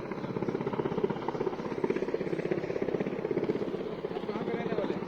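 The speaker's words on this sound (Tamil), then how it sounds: "இப்போ ஒரு ஹெலிகாப்டர் ஒன்று வந்துச்சு" A helicopter's rotor thumps steadily throughout, a continuous pulsing drone overhead with faint voices underneath.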